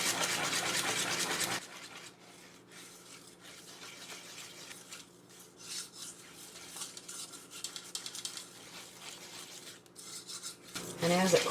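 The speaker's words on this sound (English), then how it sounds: "I just want to keep whisking until it gets as smooth as we can get it." A whisk stirs warm chocolate ganache in a bowl with a steady, soft scraping rhythm, close and quiet, while a louder rushing noise fills the first moments and an abrupt clatter comes at the end.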